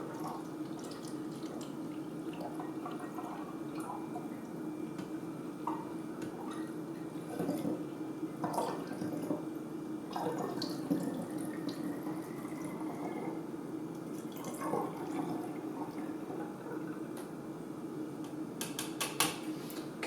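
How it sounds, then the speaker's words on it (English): Faint trickle and drips as C41 film-processing chemical is poured to fill a bottle to the brim, with small clinks and splashes over a quiet room hum. "You want to fill it right to the top, just so there's no other air in the bottle."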